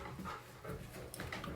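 A dog pants indoors close to the microphone, quick soft rhythmic breaths repeating steadily at a low level, with no talk over it.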